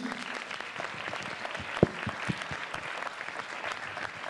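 Audience applause for a jury member at an Italian music festival, steady clapping from a crowd lasting several seconds with a couple of sharper claps standing out, moderately distant and fairly soft.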